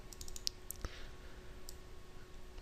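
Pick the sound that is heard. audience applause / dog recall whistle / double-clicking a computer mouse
double-clicking a computer mouse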